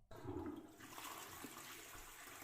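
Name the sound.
toilet flush sound effect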